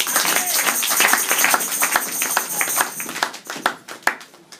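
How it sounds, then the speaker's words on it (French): A church congregation applauds in a dense wash of many hands clapping at once. It thins toward the end into a few scattered, louder individual claps, with no speech over it. "On peut applaudir pour la gloire de Dieu."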